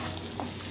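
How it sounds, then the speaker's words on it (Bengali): Vegetables with cashews frying in a pan for poha, a soft continuous sizzle with faint stirring scrapes, brief and fairly quiet, no talking. "সব কিছু এখন আরেকটুখানি ভেজে নেবো ভালো করে,"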